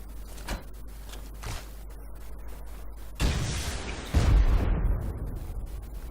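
In the video game Rust, a rocket blasts during a house raid, two heavy booming explosions landing a second apart after soft thuds, with rumbling debris trailing off.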